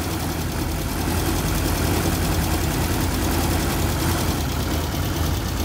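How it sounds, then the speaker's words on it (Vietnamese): A 2002 Mitsubishi Jolie with a manual gearbox idling with the engine bay open, a loud, steady, rough clattering drone recorded close up with no talk. "Máy nổ đây."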